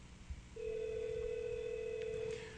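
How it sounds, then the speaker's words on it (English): A hotel guest-room desk phone on an Asterisk-based system rings back after extension 101 is dialed: one long, steady electronic tone holding about two seconds over quiet room noise, with no talking. "Now I dial the extension again, 101, and the phone's going to ring."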